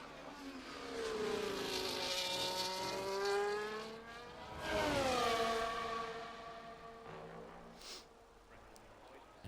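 A racing-game car at Spa, Belgium, accelerates at full throttle with DRS open, its engine rising through the gears in sweeping revs, then easing off and climbing again, loud and close with no voices.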